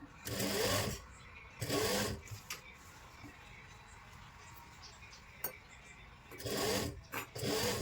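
Sewing machine stitching a lined kurti, running in short loud bursts near the start and again near the end, with quiet handling and faint clicks in between.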